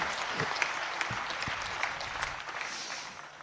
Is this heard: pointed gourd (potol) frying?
no